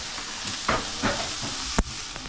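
Igado, the Ilocano pork and liver dish, frying in a pan with a steady sizzle, broken by a few stirring scrapes and one sharp clatter near the end.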